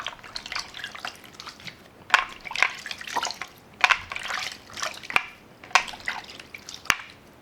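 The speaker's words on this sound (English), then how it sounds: "But I'm gonna wash off really quickly." Water splashes and drips as soap is rinsed off a face at a sink, with repeated handfuls landing in irregular bursts, close and fairly loud, no talking.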